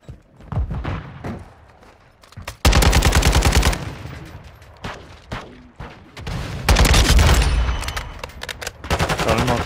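Machine-gun fire from an RPK in Modern Warfare 2 comes in several loud, rapid bursts separated by quieter stretches, with sharp individual shots scattered between the sustained volleys.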